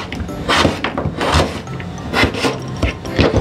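Knife slicing a quartered vegetable into thin quarter-round slices on a cutting board, a series of close, repeated scraping and tapping cuts in an uneven rhythm, with no talking.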